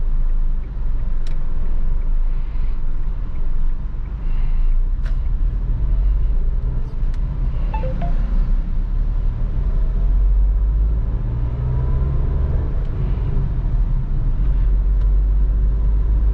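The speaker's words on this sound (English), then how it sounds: "Now let's drive the car." A Renault Kiger with the turbo engine and 5-speed manual gearbox is driven, its engine and road rumble a steady low drone heard from inside the cabin, with no talking.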